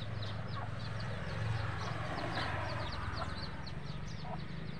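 A hen clucks repeatedly in a rural yard, short soft calls close by over a constant low background hum, with other fowl faintly around.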